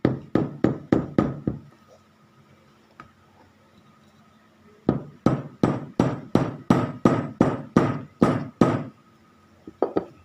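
Small nails are hammered into a Harley-Davidson boot in two runs of rapid, sharp, close taps separated by a quiet pause of a few seconds.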